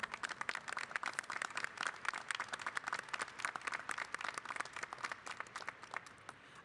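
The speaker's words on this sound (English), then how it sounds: "Let's give them a round of applause." Audience at a university commencement ceremony applauding faculty marshals, dense sustained clapping from a large crowd filling the hall, holding steady and tapering slightly at the end, with no talk.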